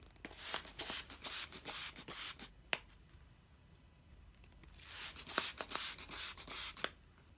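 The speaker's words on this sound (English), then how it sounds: "I'm going to spray both sides" Bursts of aerosol basting spray hiss onto quilt batting in two long stretches, broken up by short puffs and a quieter gap in between, with no talking.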